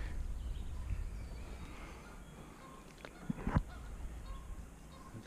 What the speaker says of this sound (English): Those geese aren't happy.